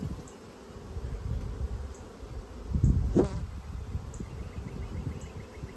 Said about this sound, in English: This has got eggs and brood. I gotta watch for the queen.